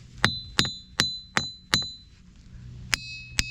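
Seven sharp metallic rings from a struck rock at Ringing Rocks County Park, five in quick steady succession, then a pause and two more, each with a clear bell-like tone that fades quickly.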